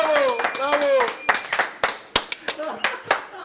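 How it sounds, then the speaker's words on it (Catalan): An audience at a small live magic or variety show claps in scattered, sharp bursts while a performer talks over them, the claps irregular and close. "Un aplaudiment per en Guilla."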